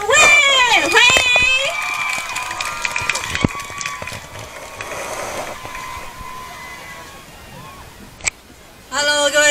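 A crowd at an outdoor daytime water running festival in Ershui cheers, shouts and whistles for a singer taking the stage, loud at first and thinning to scattered claps and calls; an emcee speaks over the start.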